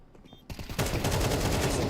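Gunfire during an esports video game match with a headshot, heard as a rapid burst of sharp shots that quickly thickens into loud, continuous firing.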